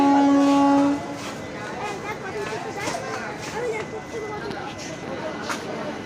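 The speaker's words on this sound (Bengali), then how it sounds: "ভাগীরথী এক্সপ্রেস চলে যাচ্ছে।" At Krishnanagar station the Bhagirathi Express passes through. A horn sounds for about a second, then a steady rolling rumble of carriages continues as people talk in the background.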